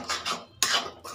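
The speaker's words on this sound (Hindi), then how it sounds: "अब इसे अच्छे से मिला लेंगे इस तरह से" A spoon scrapes and clinks against a pan while stirring turmeric into a potato and spinach curry, giving a few short near metallic rasps in quick succession with no talk.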